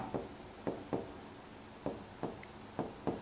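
Quiet pen strokes on paper as area calculations for an irregular land plot are written out by hand: short scratchy bursts recurring every half second or so, close and soft, with no talk.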